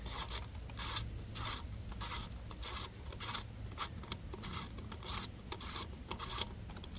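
A wrench works heat shield bolts loose on a 2022 Mazda CX-9 with 39,900 miles, giving repeated rasping, ratcheting bursts in a steady rhythm at close range, with no talking.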